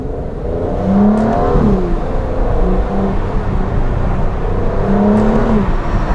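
An Aston Martin DBS Superleggera accelerating hard in Sport Plus mode, its engine roaring loudly from inside the cabin, climbing through the revs, easing briefly, then surging again with rising pitch.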